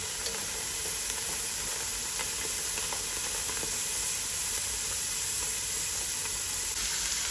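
Marinated beef sears in a pressure cooker with oil, giving a steady, dense sizzle and hiss that holds evenly from start to finish with no talking.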